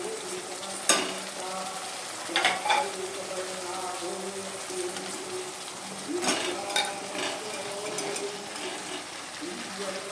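Tilapia pieces slipped one by one into hot oil and melted tomato masala, giving a steady close sizzle with a few sharper spits and clinks of the pan along the way.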